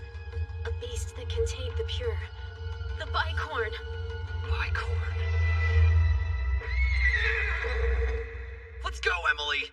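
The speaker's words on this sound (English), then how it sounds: "Looks like a horse with 2 horns." A bicorn, a two-horned horse creature in an anime, neighs and whinnies in several loud, shrill bursts over a low rumbling background, with people talking in between.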